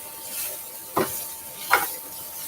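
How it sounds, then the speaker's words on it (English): Mushrooms sear in a pan on a high setting, a faint steady sizzle broken by two sharp scraping stirs about a second apart. "So I just changed the dial to sear because we want to get a little bit of color on these mushrooms."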